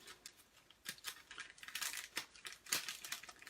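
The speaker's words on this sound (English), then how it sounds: "So it all comes in a neat little plastic envelope." A crinkly plastic envelope holding a card-making kit of dies and a stamp is handled close by, giving irregular crackling rustles and small clicks that grow busier toward the end, with no talk.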